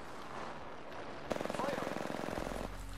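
Rapid enemy gunfire in a shooter video game, a dense burst of shots rattling close by after a brief lull, with game sounds and effects layered underneath.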